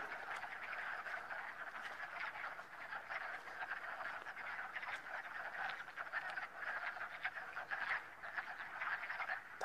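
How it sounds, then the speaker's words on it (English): A dense chorus of many frogs croaking steadily and continuously from a trailside pond, loud and unbroken with no talk over it. "Those are all frogs."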